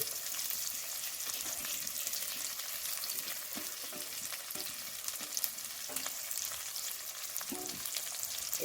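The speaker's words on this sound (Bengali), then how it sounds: "এবার ভালো করে ভেজে নেব" Chopped onion and garlic frying with prawns in a pan, a steady close sizzle running throughout, with occasional stirring scrapes and clicks.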